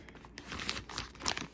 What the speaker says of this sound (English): It's a little plastic bag, a zip plastic bag, which I like.